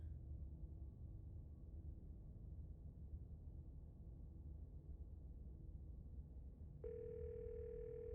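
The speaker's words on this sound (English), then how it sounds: "You can hear something drop violently on the other end, and then a dial tone." Faint low hum and hiss, then a steady telephone dial tone from a video game abruptly begins near the end and holds, after something drops violently on the other end of the line.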